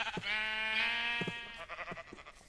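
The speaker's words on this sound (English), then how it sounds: "Come on, get the sheep." A Minecraft sheep gives one drawn-out, wavering bleat, clear and fairly close, followed by a few short clicky game sounds.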